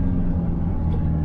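A Citroën car drives past on a town road, a low steady engine rumble with road noise, moderately close and continuous through the brief moment, no talking.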